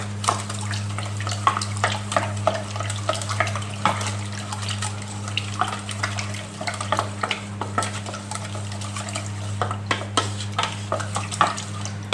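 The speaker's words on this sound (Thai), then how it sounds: "ก็คนให้ก็ ละลายเข้ากันดีเลยนะอย่าให้เหลือเม็ดแป้งเลยนะครับ" A strawberry yogurt ice cream mixture stirred steadily with a utensil until the starch dissolves, producing continuous soft scraping and sloshing against the bowl, with a low steady hum running underneath.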